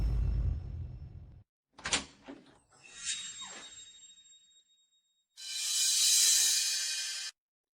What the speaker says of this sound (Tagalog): Ako na ang magbubukas ng pinto.